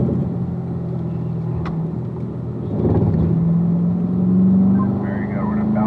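A car lapping a racetrack at the Ron Fellows driving school, with a loud, steady engine drone whose pitch slowly climbs through the S-bends, plus a brief thump, rumbling under the whole stretch.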